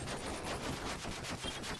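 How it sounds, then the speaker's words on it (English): Fireworks in the video game Varney Lake burst in a rapid, continuous rattle of crackling pops, loud and dense like gunfire, with no voices. "Come on, let's get closer to the fireworks."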